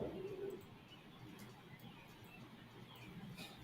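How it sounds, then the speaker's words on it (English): Birds call faintly in the background, a soft cooing like a pigeon or dove and a few light chirps, heard far off under a low steady indoor hum. "I hear the birds chirping."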